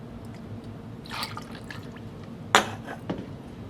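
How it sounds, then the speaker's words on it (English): Apple cider splashes briefly into a cocktail glass or shaker, a short soft pour followed by a sharp glassy clink and a small drip, close and quiet over faint room noise. "Then we're going to put 3 ounces of apple cider."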